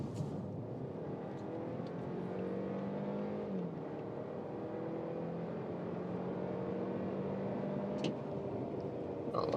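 An Audi sedan accelerating hard in Dynamic mode, heard from inside as a steady engine drone climbing in pitch, with a brief gear-shift dip partway through and a later shift near the end, fairly quiet overall.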